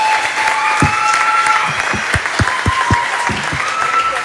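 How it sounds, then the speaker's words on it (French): An audience at a televised modelling competition finale applauds the finalists with steady, dense clapping throughout, close and loud, with a few sharper claps standing out. "Vous pouvez vous applaudir."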